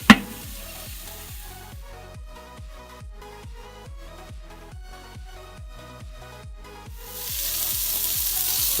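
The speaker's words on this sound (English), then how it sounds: "The burger's been cooking for about 4 or 5 minutes now" Cheeseburgers sizzle on a Weber Baby Q grill, a steady close frying hiss that grows louder and brighter near the end.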